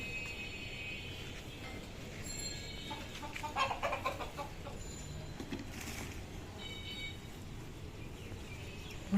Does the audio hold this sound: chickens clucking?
yes